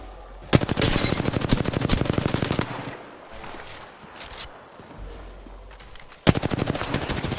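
Loud rapid automatic gunfire from a video game, two long sustained bursts at the start and end with quieter game noise between them and no talking.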